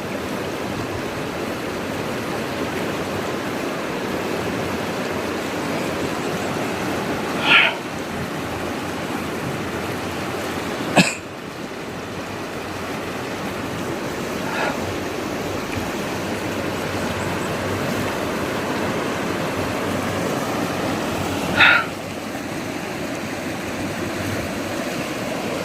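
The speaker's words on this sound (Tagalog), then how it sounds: "Ang lawak ng sapa" Wide stream flowing steadily, a constant broad rushing wash of water with a few faint sharp clicks over it and no talk.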